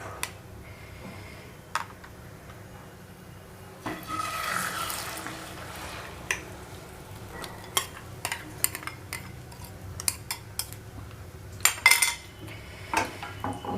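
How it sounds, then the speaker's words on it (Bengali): An egg and potato omelette mixture hits hot oil in a pan with a sudden soft sizzle, followed by scattered light clinks and scrapes of kitchen utensils, all fairly quiet. "এবার এই তৈরি করে রাখা ডিম আর আলুর মিশ্রণটা আমি কড়াইয়ের মধ্যে ঢেলে দিচ্ছি।"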